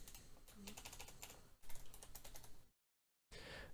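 Fast, clattery typing on a computer keyboard while code is entered, close and quiet, in irregular bursts that break off briefly near the end before resuming.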